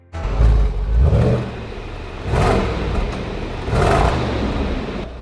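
A damaged, repaired Range Rover SVR engine revs hard three times, each deep roar swelling and fading back to a rumbling idle, loud and close.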